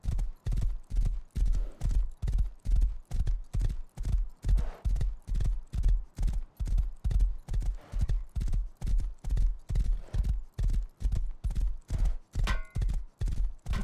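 Hooves of a horse clip-clopping in a video game, a steady, even rhythm of close, distinct steps going on for the whole stretch, with no talk over them.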